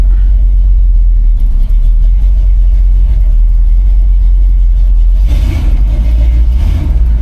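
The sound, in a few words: 1964 Chevrolet C20 327 V8 engine revving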